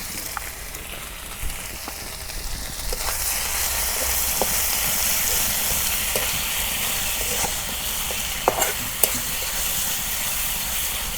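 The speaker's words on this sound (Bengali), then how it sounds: "মশলা আমার তেলের মধ্যে ভাজা হয়েছে।" Ground spices including chili powder, salt and turmeric fry in hot oil for a fish bhuna, giving a steady loud sizzling hiss throughout with a few faint clinks of stirring.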